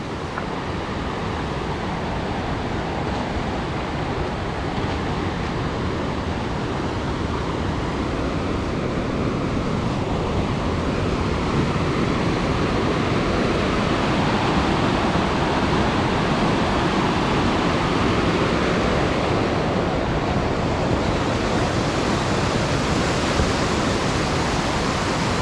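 The Hammerbach stream rushes through the Höllentalklamm gorge in the Bavarian Alps, a loud, continuous roar of churning whitewater that stays steady and close throughout, with no voices.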